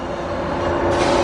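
A passenger train rolls past the station in Seymour, Connecticut, giving a steady, close rumbling rush that swells slightly toward the end, with no voices.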